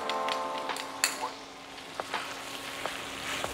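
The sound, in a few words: prawns sizzling as they go into the frying pan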